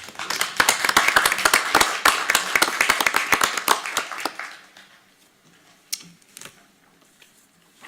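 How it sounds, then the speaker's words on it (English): A small group at a Wenatchee city council meeting claps for several seconds, sharp distinct claps that thin out and stop, leaving a quiet room with a few scattered claps and soft shuffling. "Round of applause."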